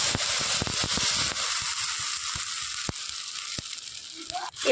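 A semolina and gram flour mixture sizzles in a spiced pan, a steady bright hiss with scattered sharp crackles and pops spread across the whole stretch, close by and alone.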